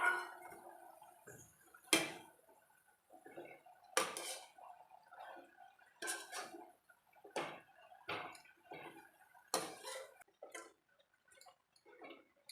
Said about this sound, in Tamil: இப்போ தக்காளி சேர்த்துக்கலாங்க.